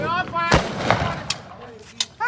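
Large firecrackers burst during a village Guru Nanak Dev Ji Prakash Purab celebration: several sharp loud bangs in quick irregular succession, with voices talking and shouting around them.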